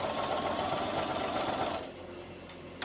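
A sewing machine stitches seams on a summer skirt with an elasticated waistband. A continuous close-up motor whir runs for a couple of seconds, then stops, leaving a few small clicks as the needle is repositioned.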